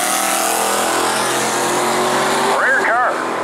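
At a drag strip, a big-block Dodge Dart lines up against a small-block Chevrolet. A steady engine roar runs under an announcer's commentary, and sharp rising revs burst out near the end.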